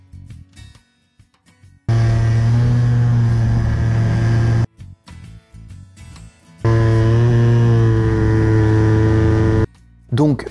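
Very loud scooter engine fitted with a 17.5 carburettor and a Polini Cornet air filter, revving hard in two long sustained bursts with a short idle gap between them; no talk.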